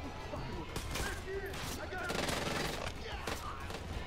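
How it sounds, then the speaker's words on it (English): Rapid, dense minigun fire blasts at a helicopter in the shooter game Far Cry 5, a continuous roar of gunfire mixed with game effects and voices talking over it. "I'm shooting down the chopper with a minigun"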